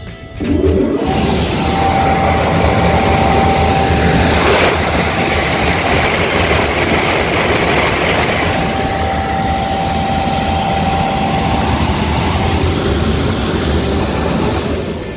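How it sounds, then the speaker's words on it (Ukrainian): A ventilation fan on an 8 to 12 tonne grain dryer spins up and runs as a loud, steady roaring whoosh with a constant mechanical drone and a thin tonal hum, continuous and close. "Вентилятор ми можемо зараз включимо."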